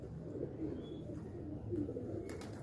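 Pigeons from a fancier's prized pair coo softly and continuously at close range, a low steady murmur of overlapping calls with no one talking.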